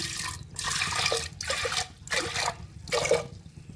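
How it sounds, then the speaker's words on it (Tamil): Water splashing into a pot in several separate pours, each a short rushing gush with brief pauses between, close and fairly loud. "தண்ணி கொஞ்சம் சேர்த்துக்கோங்க."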